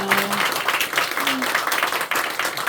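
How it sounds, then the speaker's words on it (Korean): A church congregation breaks into congratulatory applause during a Sunday morning service, a dense, steady wash of clapping filling the room, with a brief tonal sound and some voices mixed in. "우리 축하 박수 한번 미리"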